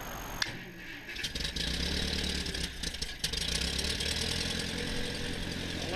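A Massey Ferguson 50 tractor engine idles after starting, a steady low mechanical chugging close by, with a couple of brief clunks and knocks early on before it settles into an even idle.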